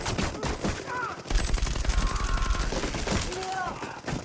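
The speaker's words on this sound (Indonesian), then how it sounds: "di lantai atas para pasukan Tama siap untuk menembak, dan beberapa anggota harus tertembak begitu saja" Gunfire erupts in a dark apartment building in the action film The Raid as troops on an upper floor open fire, with rapid, loud, continuous bursts in the foreground and shouting voices mixed in.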